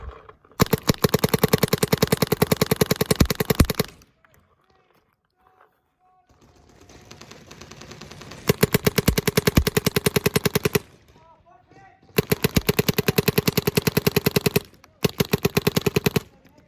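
A Dark Angel paintball marker with an Enoch board fires in rapid, machine-gun-like bursts, three or four long strings of fast sharp pops, close and loud, separated by short quiet gaps.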